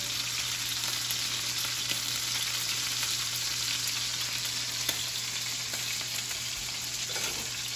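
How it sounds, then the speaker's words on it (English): Pork tenderloin searing in a hot pan, giving off a constant even sizzle up close, with a few faint clicks and pops and no speech. "We're just getting a good sear on every side."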